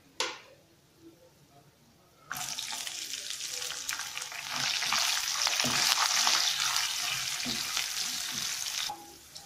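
Lentils frying in hot oil for tamarind rice: a short quiet start with a tap, then a loud steady sizzle that bursts in suddenly and swells, crackling continuously until it cuts off near the end.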